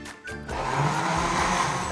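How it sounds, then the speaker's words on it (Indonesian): A kitchen blender whirs as it purees steamed pumpkin with young coconut water, starting up after a brief pause and then running at a steady, loud, close whine to the end. "Kita masukkan ke blender seperti ini. Kita masukkan air kelapa mudanya. Ini kita blender sampai halus."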